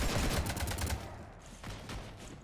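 Gunfire rattles out in the Mass Effect 3 video game as a ship is shot up, with a rapid burst of shots followed by a short pause and a second, softer volley.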